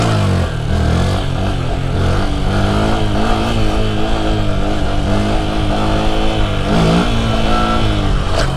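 A motorcycle engine revs steadily up, loud and close, with rising pitch sweeps as it pulls through gears, including second; no voices.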